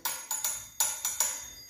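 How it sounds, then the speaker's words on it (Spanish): A small cymbal fitted to a compact travel washboard is struck six times in an uneven rhythm, each hit a bright, close metallic tap with a short ring. "un pequeño platillito"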